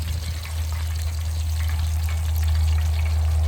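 Batter-coated blue crab frying in grease on a two-burner outdoor stove, a steady close sizzle and crackle that runs the whole time with no talking.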